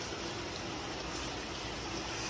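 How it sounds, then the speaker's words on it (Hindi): Heavy morning rain pours down in a steady, dense hiss that fills the whole moment without a break, close and loud with no voices over it. "देख लो भाई बारिश बारिश का तो कुछ ज़्यादा बुरा हाल है"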